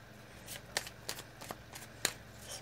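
Tarot cards handled and drawn from a deck, giving several soft, brief papery snaps and flicks spaced unevenly over a quiet background, close and fairly faint.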